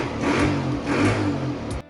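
An engine-swapped ATV engine revs up twice in quick bursts, a loud mid-pitched roar rising and falling, then cuts off abruptly.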